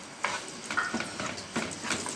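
Minced garlic with a little salt fries gently in two spoonfuls of ghee in a small pan, a quiet, soft sizzle with a few light stirring scrapes, close and faint, with no speech.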